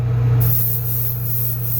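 A spray gun applies clearcoat in a paint job, giving a close, steady hiss with a low mechanical hum underneath that holds the whole way through.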